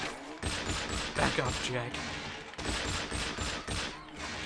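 Gunfire in the From Russia With Love video game, bursts of rapid shots in two clusters with brief pauses between them, loud and close, while a voice speaks a short line.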